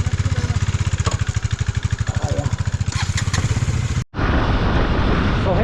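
A KTM RC 390 motorcycle engine runs nearby with a fast, even single-cylinder thump that pulses regularly for about four seconds. After a brief break, a louder, rougher rush of engine and road noise takes over.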